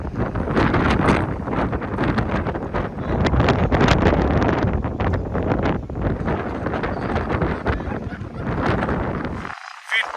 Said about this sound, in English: Sorry if it is windy because no mics.